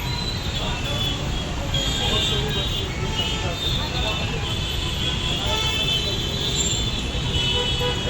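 Dense Bangalore road traffic at evening rush hour, a steady loud roar of cars and buses with car horns tooting throughout, voices faintly audible in the mix.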